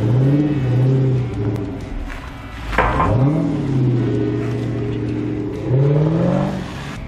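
A Dodge Challenger at an American car meet revs its engine nearby, the pitch swooping up and down through several throttle blips before settling to a rumbling idle, then rising again near the end.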